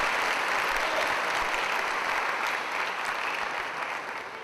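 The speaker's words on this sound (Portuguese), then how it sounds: "Pode aplaudir o Senhor." A church congregation applauding during a sermon, dense sustained clapping from a full room that stays loud and then tapers slightly at the end.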